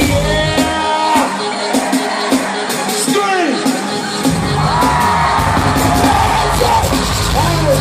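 A large concert crowd at an outdoor amphitheater during a hip-hop show yells, whoops and screams loudly and continuously, with shouted voices and bangs rising over a dense roar of cheering.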